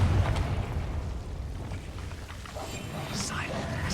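The Confringo blasting spell in Hogwarts Legacy goes off in a deep, rumbling explosion that starts with a heavy boom and trails into a sustained low roar, with faint whooshing effects near the end.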